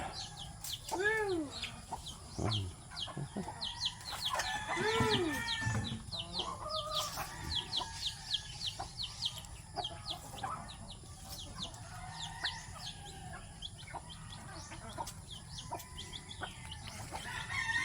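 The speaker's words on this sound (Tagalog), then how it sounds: "Manok Bisaya." Native Bisaya chickens in a rural provincial yard crow and cluck in several overlapping calls, some close and loud, others further off, over a low background murmur.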